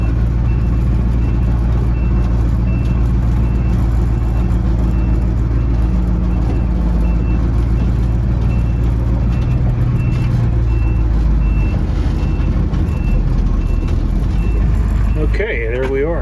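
A Ford F600 dump truck engine idling and rumbling loudly up close while it reverses into position for unloading a corn harvest, a steady low drone with faint tonal beeping over it.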